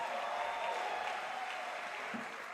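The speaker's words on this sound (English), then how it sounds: "Clap your hands, everybody." Audience applause at a youth conference after a speaker's talk, a steady, fairly faint wash of many hands clapping from across the hall, with no clear talking over it.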